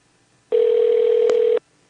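A single steady telephone tone sounds for about a second, loud and clear, the kind of intercept tone heard before a not-in-service message on a phone line.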